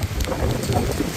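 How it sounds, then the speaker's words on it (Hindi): Heavy July rain pours down in a thunderstorm, a dense, steady close-up roar of rain hitting surfaces with a low rumble underneath and no voices. "तो ये सब जगह में बारिश हो रही है।"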